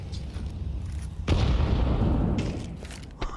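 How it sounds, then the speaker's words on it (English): A grenade goes off in a Counter-Strike match with a sudden booming burst that rumbles and fades over a couple of seconds, preceded and followed by quieter scattered clatter. "Grenades landing towards Slimy."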